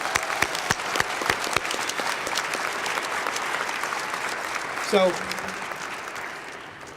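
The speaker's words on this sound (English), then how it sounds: "I would love to give you guys a round of applause." Audience at a family reunification ceremony gives a sustained round of applause, steady dense clapping filling the whole stretch, with a brief spoken word near the end.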